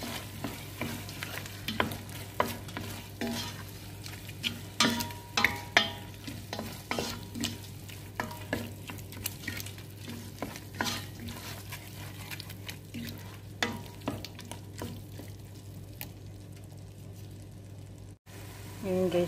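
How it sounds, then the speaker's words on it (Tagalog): A spoon stirs okra and potato stew with tomato paste in a simmering pan, giving repeated scraping clinks and wet sloshing over a low steady sizzle, with quieter talk in places and brief pauses toward the end. "Halo-haloin lang po guys."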